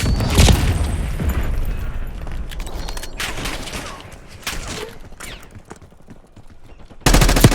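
Gunfire and a Semtex explosion in Call of Duty: Black Ops 6, sharp close shots and rattling bursts followed by scattered quieter reports, ending in a sudden loud blast.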